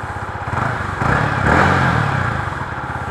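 A Yamaha MT 15 with stock exhaust revs inside a showroom, close and loud, the engine note rising in two short swells over a running idle.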